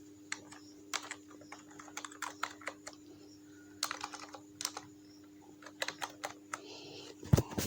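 Computer keyboard typing in a quiet room: irregular light key clicks in short bursts, with a steady low hum beneath and a louder tap near the end.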